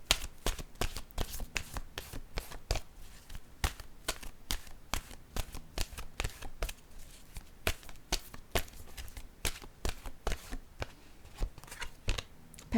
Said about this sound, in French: Je vais déposer maintenant une carte de mon oracle de l'âme intuitive.